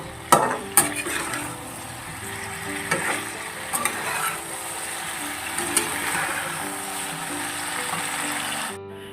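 Curry sizzles in a pan while a spoon stirs and scrapes it. Clanks of metal on the pan come in bursts over a steady frying hiss, close and moderately loud, with no speech.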